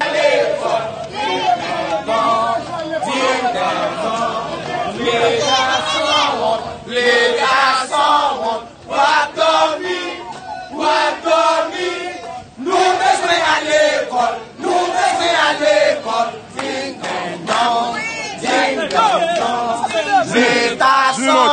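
A large street protest crowd of students in Haiti chants and sings in loud, rhythmic surges, voices overlapping continuously with brief dips between phrases.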